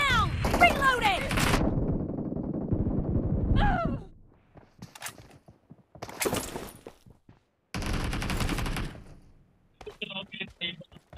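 SCAR-L assault rifle fire in a PUBG Mobile team deathmatch, with several loud close bursts of rapid shots separated by short pauses and mixed with voices.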